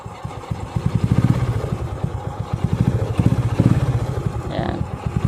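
A Sym Bonus 110 motorcycle, just fitted with a new battery, starts on its electric starter and settles into a loud, close, steady idle with rhythmic engine pulses, with a voice briefly over it.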